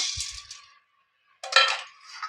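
Crisp fried flattened rice (chira) being poured into a mixing bowl for Bengali-style chanachur, two short bursts of dry rattling and clinking against the bowl separated by a brief silence, close and fairly quiet.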